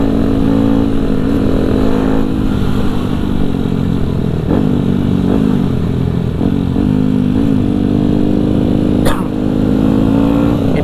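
A supermoto motorcycle engine runs loud and close at a rest area in Lembang during a Sunday morning group ride, droning steadily with a few small throttle blips.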